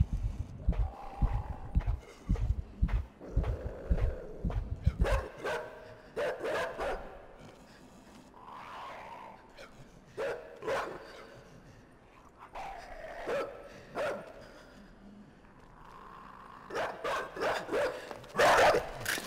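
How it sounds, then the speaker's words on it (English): Dogs in the video game INSIDE bark in sharp, repeated bursts, loud and close at first, then scattered barks and yips with quieter gaps between them. "Is that a dog?"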